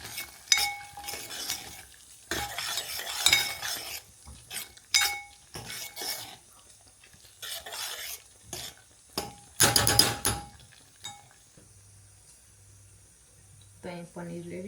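Masala paneer gravy is stirred and mixed in a pan with irregular bursts of scraping and clinking metal utensils, separated by quiet pauses, while someone talks nearby.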